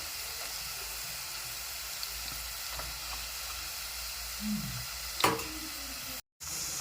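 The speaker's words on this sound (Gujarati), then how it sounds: "આને પણ ગોલ્ડન બ્રાઉન થાય ત્યાં સુધી આપણે તળી લઈશું" Cassava chips fry in oil with a steady, even sizzle and a faint crackle. A single sharp tap of a utensil rings out near the end.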